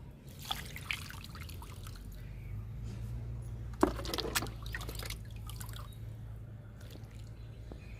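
Kitchen-waste liquid fertilizer is poured onto young drumstick (moringa) plants, giving a soft splash and trickle over a steady low hum, with a louder gush near the middle.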